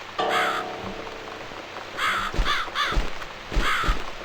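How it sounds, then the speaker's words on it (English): A crow cawing in The Cat Lady video game, with a series of harsh caws, some single and some in quick pairs, loud and near over a steady rainy hiss. "It's this damn bird again."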